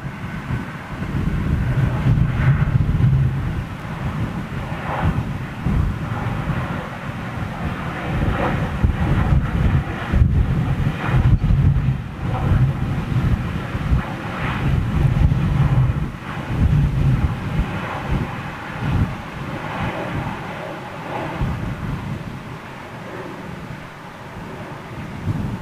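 A Royal Air Maroc airliner arriving at Toulouse airport, a sustained, rumbling jet-engine drone mixed with wind buffeting that rises and falls and thins out toward the end.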